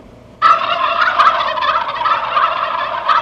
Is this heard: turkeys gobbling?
yes